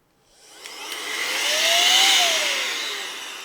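A rechargeable compressed air duster blower rated at 100,000 RPM spins up with a loud rising whine and rushing hiss, holding near the top, then winds slowly back down, heard alone and close.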